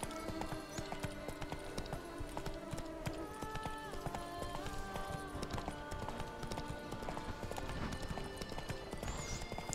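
Galloping hooves of the horse Roach in The Witcher 3 beat in a fast, steady clip-clop rhythm, loud and close throughout, with music playing underneath and a brief whinny.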